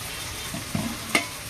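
Leafy greens fry with potato and onion in a pan, giving a soft, steady sizzle with a couple of faint stirring clicks.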